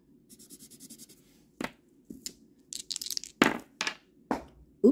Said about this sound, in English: I dropped the dice.